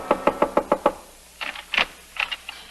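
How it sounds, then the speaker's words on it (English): Frantic knocking on an apartment door in an old radio drama: a quick run of five or six sharp, evenly spaced raps, then a pause and several more uneven, hurried knocks, close and alone. "We find Ann frantically knocking on Jeff's door."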